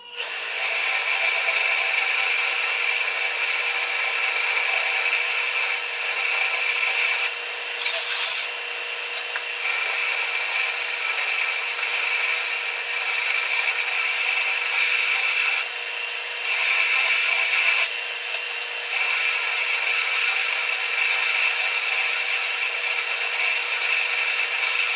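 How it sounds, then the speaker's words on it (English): Steel rebar is sanded by hand to remove rust, producing a continuous, close, gritty rasping that keeps a steady back-and-forth scrape with only brief pauses. "I'll try to sand them up just a little bit to get some of that rust off"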